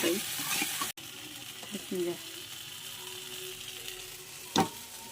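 Onion and masala for stuffed parwal sizzle steadily in a pan, with turmeric and salt in the mix, a dull knock near the start and a sharper clink later as the spices are stirred, while a voice speaks briefly.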